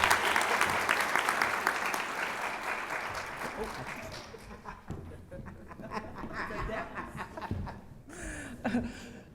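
An audience at a nursing awards presentation applauds for the award recipients, a dense wash of clapping with light laughter that fades after a few seconds, leaving scattered noise and a voice.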